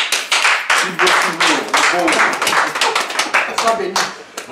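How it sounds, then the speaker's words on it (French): An audience at an NGO general assembly breaks into applause, several bursts of clapping from a small crowd, close and fairly loud, with a voice speaking over part of it. "Applaudissez pour lui un peu."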